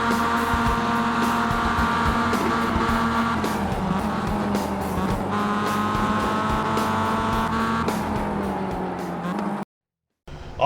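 Race cars in the iRacing sim driven by AI opponents, a loud continuous engine drone with rising and falling pitch and occasional tire squeal, ending in a brief silence before a cut.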